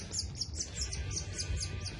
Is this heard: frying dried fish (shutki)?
no